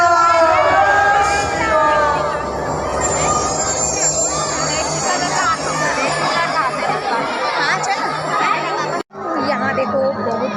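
A large crowd packed in at a late-night jagrata stage show in Kabirdham, Kawardha, Chhattisgarh, keeps up a loud, steady babble of chatter and voices, with a brief sharp drop near the end before the din returns.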